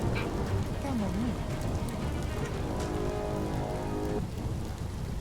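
Steady rain pours in the Biomutant video game, a dense, continuous hiss with a low rumble of thunder beneath and a brief tonal game sound early on.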